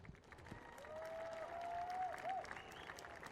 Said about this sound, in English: A final round of applause,